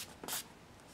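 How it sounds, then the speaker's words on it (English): One short, soft hiss of makeup setting spray is misted onto a face, a faint burst in an otherwise quiet room. "Now that I have that all set down, I would just quickly spray my face."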